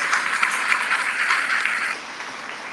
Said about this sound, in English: so applause to them because they're all behind the scenes